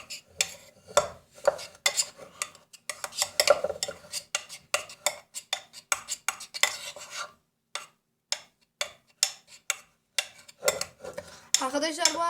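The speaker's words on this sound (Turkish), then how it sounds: "Bir kaşık yardımıyla eziyoruz." Close, irregular clinks and scrapes of a spoon mashing egg yolk in a dish, pressing in short bursts with brief pauses.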